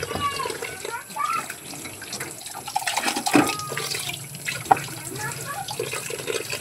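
Tap water runs and splashes steadily while dishes are washed in a home sink, with faint clinks of plates and a person talking over it.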